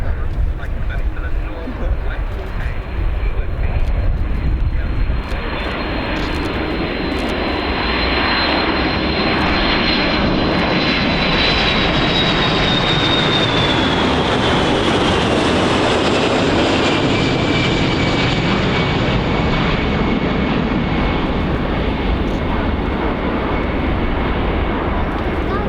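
A large RC-135 military jet flies low at about 700 feet over an airshow, its engines roaring steadily and loudly for the whole stretch, with a whining tone that falls in pitch as it passes overhead.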